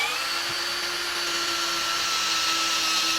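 An HL BCID 813 13 mm cordless impact drill runs at speed 1 with a steady, high, continuous whine, close and loud, with no voices over it.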